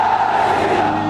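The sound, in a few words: crowd shouting chant Jai Shri Ram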